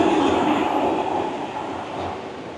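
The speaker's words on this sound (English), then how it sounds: "There we go, we got the sky train right there." Elevated sky train rolling past in central Kuala Lumpur, a steady loud rumble of wheels and cars on the track that fades slightly as it passes.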